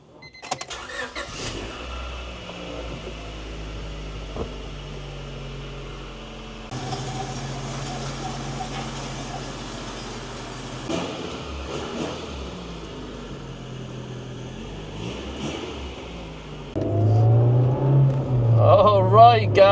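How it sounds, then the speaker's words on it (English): A restored 2000 Honda Civic Si with a B16 engine and 87K miles runs steadily on a test drive, its engine note rising into a louder rev near the end, with people talking over it. "I think we're ready for a test drive"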